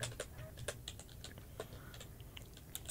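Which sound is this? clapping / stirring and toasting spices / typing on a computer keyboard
typing on a computer keyboard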